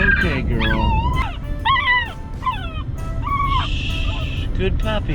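A nine-week-old Dalmatian puppy whimpers and yips in a run of high, wavering whines, close and loud, over a low background hum.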